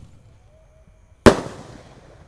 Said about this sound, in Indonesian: Peluru pelontar Basoka Roman candle 1 tor.